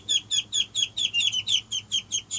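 Domestic ducks in a pen call in a quick run of about a dozen evenly spaced, close, fairly loud quacks with no other sounds.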